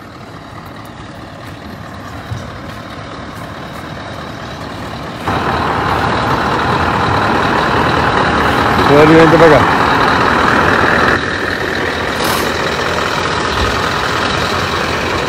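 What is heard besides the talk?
trucks passing, loaded with bread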